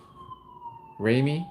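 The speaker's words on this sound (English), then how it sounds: "Oh, okay, that's the ambulance." A faint ambulance siren wails steadily in the distance, its tone slowly falling, before a voice cuts in briefly over it.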